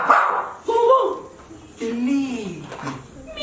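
On stage in a Hindi comedy play, a performer imitates a dog with loud voiced barks and yips, two or three bursts separated by brief pauses.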